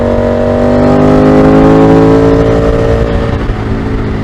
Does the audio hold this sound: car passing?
yes